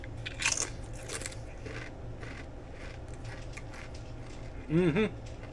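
Doritos Golden Sriracha tortilla chips crunch in a few sharp, close bites near the start and again toward the end, with quieter chewing between them and no speech.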